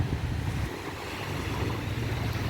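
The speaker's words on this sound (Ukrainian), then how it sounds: "Сьогодні такі хвилі навіть накатують, якщо це можна назвати прям хвилями." Small sea waves wash onto the beach along the Durrës waterfront in Albania, a continuous low rushing surf mixed with wind buffeting the microphone, steady and without speech.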